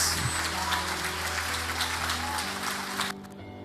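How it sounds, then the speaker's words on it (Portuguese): A church congregation applauds at a Portuguese-language worship service, producing a dense, steady wash of clapping hands that carries for about three seconds before dropping away abruptly. "Aplauda Jesus"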